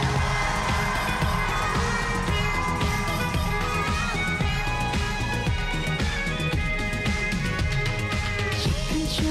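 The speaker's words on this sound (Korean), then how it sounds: "여러분 함성 한번 준비하시고 큰 소리로" Crowd cheering at a trot concert, a sustained roar of many voices that carries through the whole stretch at steady loudness, with music and voices blended into the din.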